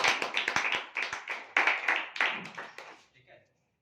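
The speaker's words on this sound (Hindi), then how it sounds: "एक बार तालियां हो जाए सर के।" Indoor audience clapping in a business meeting to honour a bronze director, a burst of applause with uneven hand claps that swells, pauses briefly, resumes, then fades out near the end.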